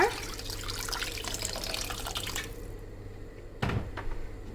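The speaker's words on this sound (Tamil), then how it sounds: "இப்போ இதில் நான் தேவையான அளவு தண்ணி சேர்த்துக்கிறேங்க." Water poured into a pot of village-style dry fish curry with tamarind, a steady close splashing stream for a few seconds, then a brief second pour after a pause.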